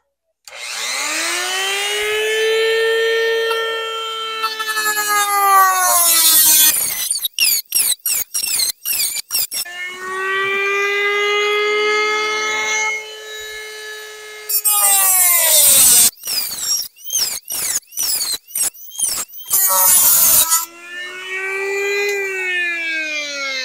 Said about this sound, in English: Got us a tin can. The first one we'll cut that open. Use a Dremel